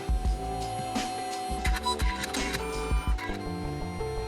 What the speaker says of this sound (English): it passes through the printer 4 times, laying down a different layer each time